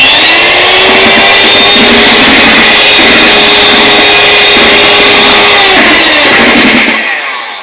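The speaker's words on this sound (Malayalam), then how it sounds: "ജസ്റ്റ് ഫസ്റ്റ് സ്പീഡിലിട്ട് ജസ്റ്റ് ഒന്ന് ഓയിൽ ആ ബാറ്ററിലേക്ക് മിക്സ് ചെയ്യാൻ മാത്രം മതി" An electric hand beater on its first speed whirs steadily while mixing oil into cake batter, loud and close with a constant motor drone and slight rhythmic wobble before it switches off.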